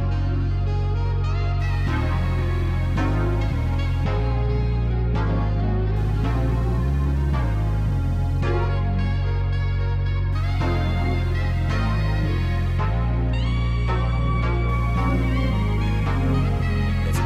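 A new jack swing style beat built in Arturia Pigments 4, with layered saxophone samples over punchy drums and deep bass, playing loud and continuous throughout with no voices.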